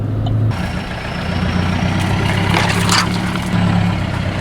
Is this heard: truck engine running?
yes